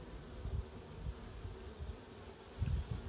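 Honey bees buzzing steadily throughout a hive inspection of an open colony with packed brood and emerging workers, a dense low drone that swells in soft pulses with no voices.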